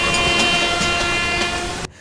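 An Indian Railways locomotive sounds a loud, sustained horn blast after an emergency chain pull. The note holds steady over rumbling train noise and cuts off sharply near the end.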